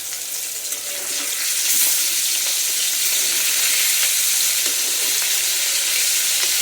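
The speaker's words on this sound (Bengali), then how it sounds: "তো মাছগুলো আগে একটু হালকা করে ভেজে নেই।" Pieces of hilsa fish fry lightly in a pan, giving a bright, steady, hissing sizzle that grows slightly louder after the first second and stays constant, close up with no speech.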